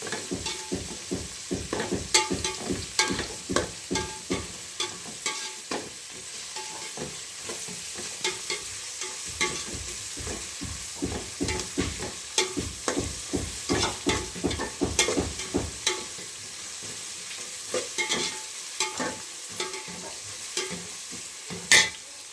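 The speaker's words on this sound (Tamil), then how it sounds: "நம்ம வெங்காயம் நல்லா வதக்குறேன்னு சொன்னேன்" Onions sautéing in a pan for half a kilo of chicken biryani, with a spoon stirring in quick regular scrapes over a continuous sizzle, close and fairly loud, no voices.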